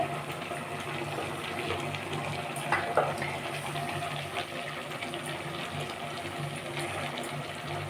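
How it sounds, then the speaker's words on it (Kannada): Egg and chicken curry, village-style, bubbles at a boil in a pot under an upturned lid, making a faint, steady watery simmer with occasional small clinks throughout. "ಇವಾಗ ಉಪ್ಪು ಹಾಕಿದ ಮೇಲೆ ಮತ್ತೆ ಚೆನ್ನಾಗಿ ಕುದೀತಾ ಇದೆ"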